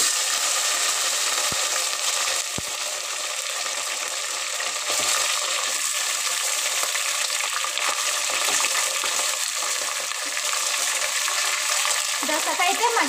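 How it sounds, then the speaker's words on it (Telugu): Chopped onion fries in oil in a pan with a loud, steady sizzle and crackle, accompanied by a few sharp clinks from the pan or a utensil. "ఇదైతే ఒక 2 నిమిషాలు మగ్గాలి ఉల్లిగడ్డ"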